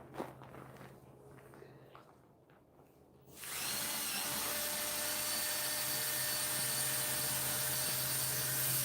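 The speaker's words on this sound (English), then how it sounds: "I'm about to try unscrewing them here." A power drill runs continuously while unscrewing screws from a floor, starting abruptly after a few seconds of quieter shuffling and holding a loud, steady whine to the end.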